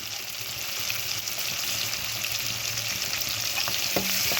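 Sliced onions and soya chunks frying in a pan for a spicy mealmaker side dish, an unbroken close sizzle with faint stirring, ending in a couple of light clinks.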